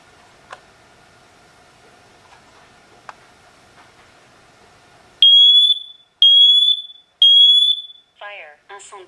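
A Siterwell hardwired interconnected smoke and carbon monoxide detector sounds three loud, piercing alarm beeps of equal length with short gaps, followed by a brief spoken warning. Faint ticks are audible before the alarm begins.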